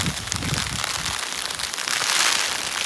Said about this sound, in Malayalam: നല്ല മഴ, നല്ല കാറ്റ്,